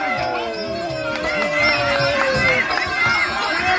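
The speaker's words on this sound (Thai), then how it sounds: "เอาเสียงเชียร์แล้วกระหึ่มแล้วกระหึ่มแล้ว" A crowd at a boxing match roars and cheers loudly and continuously, a dense wall of shouting voices with an excited commentator talking over it.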